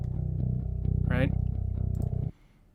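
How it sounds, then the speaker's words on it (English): A bass guitar DI track run through heavy distortion effects plays a gritty, buzzing riff at close range, then cuts off abruptly near the end with only faint residue left. "I have a bunch of distortion and other bullshit on here to make it sound nasty"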